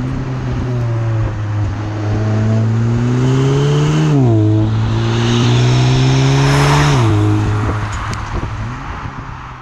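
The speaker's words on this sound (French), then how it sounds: "ce moteur émet une sonorité assez sympathique grâce aux échappements spécifiques" A Cupra Ateca SUV's 300 hp engine with a deep sporty exhaust note revs up through several gear shifts, loud and close, its pitch climbing and dropping between shifts.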